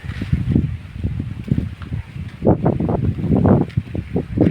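Strong gusts of wind buffet the microphone in rough, surging bursts, rising and falling unevenly and growing heavier toward the end.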